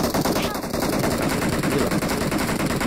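Rapid bursts of automatic gunfire from a PUBG Mobile battle run densely through the whole stretch, loud and continuous with no clear pauses.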